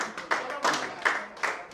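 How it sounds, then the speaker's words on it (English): A small group at an Igbo summer camp claps for a mother, four separate bursts of hand claps in an uneven rhythm, close and moderately loud with quiet gaps between them. "Let's clap for mommy today."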